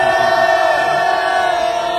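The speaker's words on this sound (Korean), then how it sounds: "함성 시작!" A rally crowd lets out a sustained shout, a steady wall of massed voices holding loud and unbroken with no single talker standing out.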